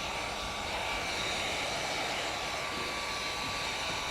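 A heat gun blows constantly at close range while it shrinks window tint film on a 2022 Toyota Corolla, a steady airy whir with no breaks and no talk.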